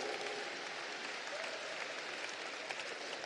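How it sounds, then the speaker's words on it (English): Applause from the audience at the closing ceremony of the Virtus Oceania Asia Games 2022: a dense, continuous wash of clapping that stays steady and evenly loud, as if heard from within a large hall. "We've got a massive round of applause."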